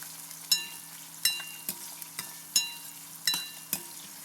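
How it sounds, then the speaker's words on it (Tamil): Sliced shallots and garlic sautéing in plenty of oil for a tamarind curry, a soft background sizzle punctuated by six or seven distinct metallic spoon scrapes and clinks against the pan, close by, no speech. "சின்ன வெங்காயமும் பூண்டும் கட் பண்ணி வச்சுருக்கேன், அதை எடுத்து இதில் போட்டுக்கலாம். நல்லா வதக்கிக்கலாம்."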